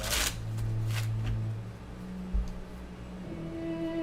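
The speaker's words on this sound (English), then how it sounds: "Let me shuffle these" A deck of tarot cards is shuffled by hand, with crisp riffling bursts and soft sliding rustles repeating over a low steady hum, close and fairly quiet.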